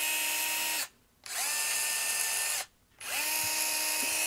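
A SKIL 4-volt cordless 1/4-inch screwdriver spins at its lowest speed in three loud, steady whirring bursts of about a second and a half each, separated by brief silent pauses, with no talking.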